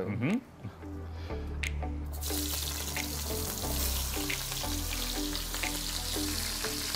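Aubergines brown gently in a pan alongside lamb shanks and vegetables, giving a steady close sizzle with soft stirring and scraping, while a voice speaks over the cooking.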